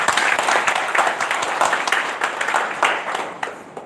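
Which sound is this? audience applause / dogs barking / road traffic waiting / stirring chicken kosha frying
audience applause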